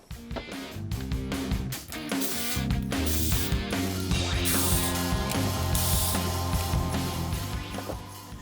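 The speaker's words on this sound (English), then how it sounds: "what we actually have to do is simply undo the 4 bolts on both sides" Ratchet wrench undoing mounting bolts on a Jeep winch cross member during a 13,000 lb winch install, clicking in quick bursts with metallic clanks and handling noise.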